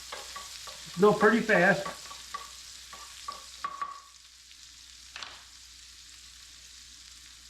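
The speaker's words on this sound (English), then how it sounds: "Green onion go in. Butter goes in. Let these cook down." Chopped green onion and butter sizzle in a hot pan alongside peppers, with a steady soft crackle, a burst of stirring scrapes near the start, and a short spoken remark over the frying.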